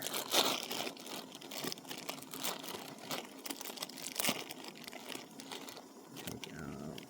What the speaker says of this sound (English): And open the bag.